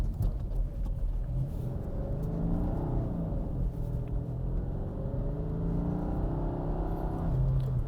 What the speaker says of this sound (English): Ooh, car coming.